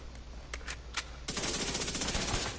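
Rapid SMG gunfire in The Division video game, a dense sustained burst of automatic shots that starts after a few scattered single shots and runs loud to the end, with no talking.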